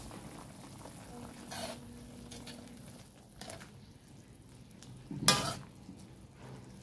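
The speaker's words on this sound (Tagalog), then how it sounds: "Hayaan natin kumulo." Pancit canton with chicken liver simmering in a pan, a low bubbling and faint sizzle with occasional stirring scrapes and one sharper clatter of a utensil near the end, quiet and close.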